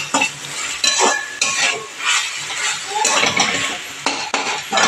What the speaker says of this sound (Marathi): आता याला 1-2 मिनिटं मी हलवून घेते.